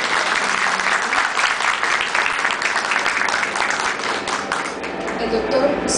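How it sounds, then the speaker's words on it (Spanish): A university audience applauds at a book presentation, a dense, loud, sustained wash of many hands clapping that carries on steadily without a break. "para quienes pedimos un fuerte aplauso"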